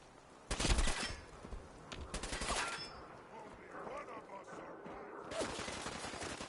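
Gunshots in the Fallout 4 wasteland: a few sharp, loud cracks spaced out over several seconds, with quieter ambient noise between them.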